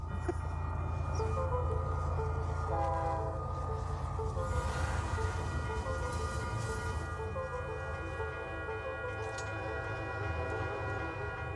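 A train rumbles past close by in downtown Tucson, a steady heavy drone with a sustained horn-like tone sounding throughout, with no voices.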